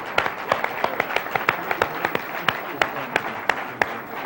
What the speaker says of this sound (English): Give everybody a big round of applause.